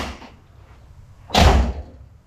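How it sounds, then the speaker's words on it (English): A Foxbody Mustang's car door shuts with a single solid, close thud after a quieter moment of movement, then the sound fades away. "man, that door opens and closes so nice."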